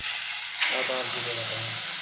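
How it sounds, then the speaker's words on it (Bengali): Cumin seeds and a bay leaf sizzling in hot oil, a steady loud hiss throughout with a short burst of crackling as they hit, while a voice speaks faintly in the background. "আমি এই তেলে দিয়ে দেবো জিরে ফোড়নিতে, আর দিয়ে দেবো তেজপাতা।"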